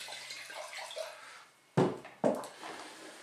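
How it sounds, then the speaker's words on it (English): Wine glasses are rinsed under running water in two short, close splashing bursts after a quiet stretch of soft room noise, the water gushing briefly each time and then stopping. "Actually, get my glasses over to rinse here."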